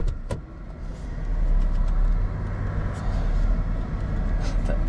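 A Mercedes C Class engine idles steadily while running off a jump pack, a continuous low rumble heard from close by inside the car with no talk.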